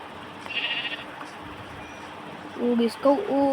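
A black sheep in Minecraft gives a few short wavering bleats toward the end, after softer game sounds and under a player's speech.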